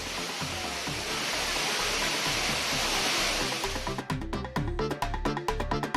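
Kumbakkarai falls roars heavily with water swollen by rain, a dense continuous rush that gives way near the end to choppier, broken bursts.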